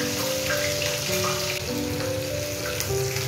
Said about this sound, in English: Now we are going to dry roast the dal.